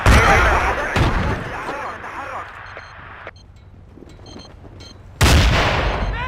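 A frag grenade detonates in Battlefield 2 amid heavy gunfire, a loud booming burst that rolls off into rumbling debris, then a brief lull before another powerful blast; a radio-style voice calls out over the combat.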